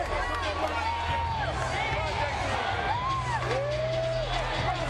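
Arena crowd at a Holyfield vs James Toney boxing event reacts mildly as Toney comes into view, a steady murmuring roar with scattered whoops under a commentator talking throughout.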